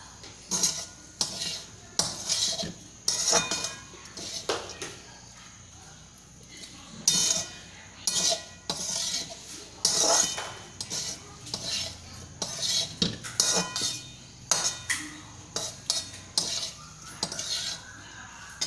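A spoon mixing Kadugogre, a tamarind rice, in a bowl, with repeated close scraping and clinking strokes in irregular bursts and short pauses between.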